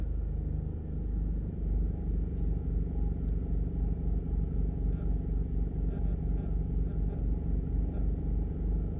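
Steady low rumble of slow-moving highway traffic in Jamaica's southern coastal road construction zone, cars and motorcycles idling and creeping along, continuous and moderately loud with occasional faint clatter, no talking.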